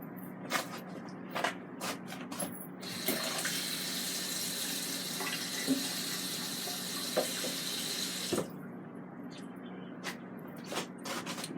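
Water runs from a tap into a COSORI 3.7 quart air fryer basket for washing, a steady rushing pour lasting several seconds with light clinks before and after, close and moderately loud.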